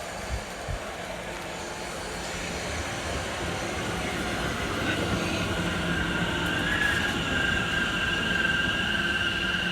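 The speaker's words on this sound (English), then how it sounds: "A Class 710 enters on the DC lines, heading into London." A Class 710 electric multiple unit enters on the Watford DC lines of the West Coast Main Line heading toward London, a steady rising rumble of wheels on rail with a thin high squeal building in the latter half.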